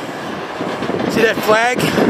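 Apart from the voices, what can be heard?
freight train pulling out of a rail yard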